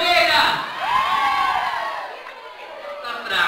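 Palmeiras supporters at a daycare Christmas party cheer and whoop together, a crowd of adults and children yelling at fairly close range, the shouting swelling and dipping over a few seconds with some talk mixed in.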